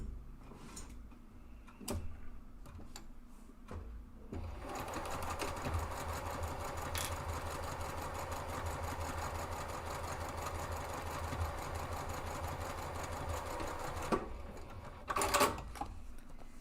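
Home sewing machine stitching fabric side seams at a 3/8 inch seam allowance with a 3.0 stitch length and 90/14 needle, running steadily and continuously after a few short clicks and taps, close and alone.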